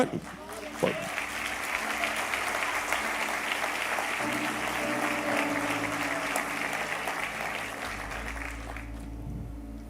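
An audience at a Portuguese-language inspirational talk applauds, a sustained, fairly loud patter of clapping that carries on for several seconds and gradually fades out at the end.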